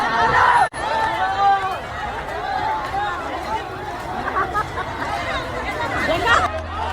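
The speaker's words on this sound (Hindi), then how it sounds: "सैकड़ों लोगों की भीड़ पुलिस पर पत्थर चला रही है।" An angry crowd of hundreds hurls stones at police beside a railway track, a loud, dense roar of shouting voices and babble running without pause.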